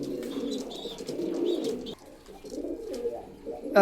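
Shiyalkuti flying pigeons coo close by in low, rolling, repeated calls, with a few faint chirps above them.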